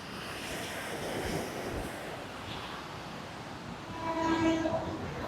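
A train runs along the railway track beside Mount Lavinia beach in Colombo, its rumble rising steadily over surf and wind, with a faint horn-like tone near the end; it sounds moderately distant.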